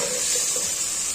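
Whole cumin seeds sizzle in hot oil in a pan for matar pulao, a bright, continuous hiss that is close and steady for about a second, with no voices.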